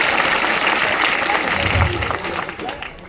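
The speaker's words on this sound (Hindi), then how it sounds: "चंबल धरा आपकी तालियों से स्वागत करेगी भैया" An audience in Chambal, Gwalior claps to welcome visiting guests, a dense, steady roar of applause that fades slightly toward the end.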